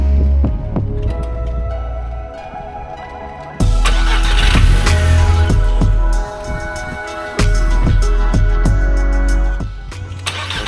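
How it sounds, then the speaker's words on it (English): A car engine in a driveway repeatedly cranks and catches, revving loudly for a few seconds before cutting out, with several sharp restarts and dropouts close to the microphone. "It'd fire up and then turn straight off."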